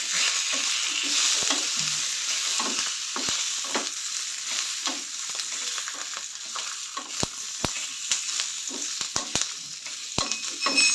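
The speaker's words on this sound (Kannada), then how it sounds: "ಆಯಿಲ್ ಹಾಕಿ ಫ್ರೈ ಮಾಡ್ತಾಯಿದ್ದೀನಿ" Cut capsicum fries in plenty of oil in a pan, giving a steady bright sizzle broken by sharp clicks and scrapes as it is stirred.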